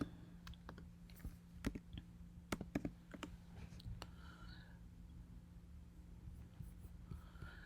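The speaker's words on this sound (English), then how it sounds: "We're going to type in canva.com" Typing on a computer keyboard, with faint, sparse key clicks and a few sharper taps in an irregular rhythm against a low steady background hum, with no talking.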